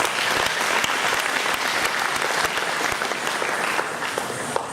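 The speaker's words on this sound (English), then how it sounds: "Let's give them all another round of applause." A hall audience at an annual function gives a full, dense round of applause for a group of dancers, steady and sustained throughout with a few sharper claps standing out.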